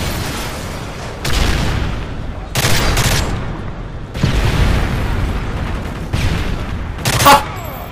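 Bursts of gunfire and booming explosions in a first-person shooter multiplayer match come in loud, abrupt blasts separated by brief lulls, with a final sharp crack near the end.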